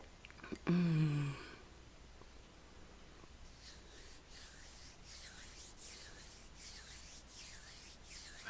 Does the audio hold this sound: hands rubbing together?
yes